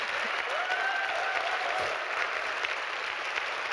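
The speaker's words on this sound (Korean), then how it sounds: "박수 쳐주셔도 돼요" Audience at a live talk-show lecture applauding, a continuous wash of many hands clapping at moderate distance, steady for several seconds, with a faint voice over it.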